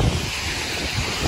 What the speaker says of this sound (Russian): Ветер также дует